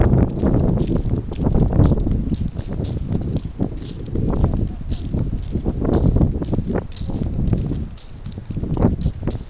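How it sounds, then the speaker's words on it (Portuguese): Strong, gusty wind blowing outdoors at a model aircraft flying site, buffeting the microphone with a continuous, fluctuating roar and rumble for nearly ten seconds. "Acho que está muito vento."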